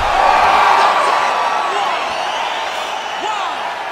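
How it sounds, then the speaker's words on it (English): Roaring crowd cheer from an arena audience at the end of a UFC fight in EA Sports UFC 5, loud and sustained for a few seconds, gradually easing while staying full throughout. "crowd loving it"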